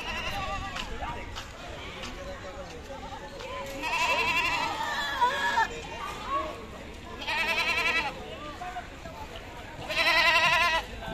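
Goats bleat repeatedly at a busy livestock market, with three loud, wavering calls standing out from a steady background of crowd noise and scattered nearer animal sounds.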